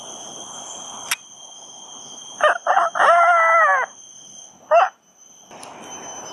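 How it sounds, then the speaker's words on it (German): A rooster in Fort Canning Park, Singapore, crows nearby, a clear cock-a-doodle-doo followed by a shorter squawk, over quiet outdoor background noise. "Wir haben gerade einen Hahn gefunden."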